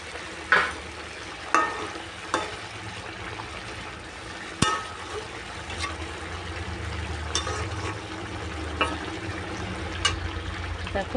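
Fish pieces simmering in boiling curry gravy in a home kitchen, a steady low bubbling and soft sizzle with a few sharp clinks of a utensil against the pot.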